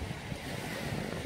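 Waves wash onto a cold beach at Torquay, a steady broadband surf roar with low rumbling swells and some wind buffeting the microphone, fairly close and continuous, with no voices.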